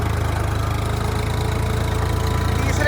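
A Swaraj 855 tractor engine runs steadily at close range, with an even, rapid diesel chug and a low throbbing pulse throughout, and no voices over it.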